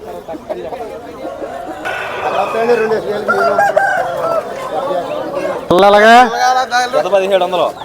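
Roosters and hens at a busy chicken market in Gokavaram, with a rooster crowing loudly near the end over steady crowd chatter and occasional clucking throughout.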